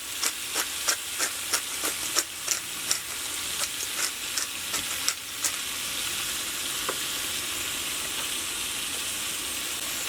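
Thin-sliced meat for Philly cheesesteaks, seasoned with salt and black pepper, frying in a pan on a camp stove outdoors, steady close sizzle with a quick run of sharp metal scrape clicks at first, then an even hiss.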